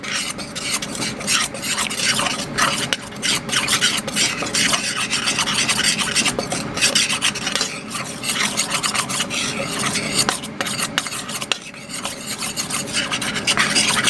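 Mustard powder being stirred with paprika, turmeric and other spices, a constant close scraping and rasping of the utensil against the bowl, steady and unbroken for the whole stretch.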